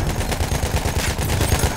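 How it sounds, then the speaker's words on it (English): Rapid machine gun fire from a World War I battle in Battlefield 1, a loud, dense stream of close shots with overlapping bursts throughout. "Machine gun over there!"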